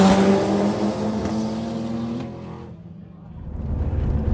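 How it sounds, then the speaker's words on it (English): A Toyota MR2 and a Nissan Patrol launch in an unprepped eighth-mile drag race, engines roaring loud and sustained before the sound drops away, then rumbles back up as the cars pass. "it ends up with the MR2 versus the Patrol, and I got footage of that here, so let's play that now"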